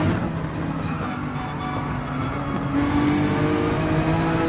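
A Red Bull race car engine in Gran Turismo 7 drones steadily and loudly throughout, its pitch climbing slightly partway through as the revs rise, with no voices over it.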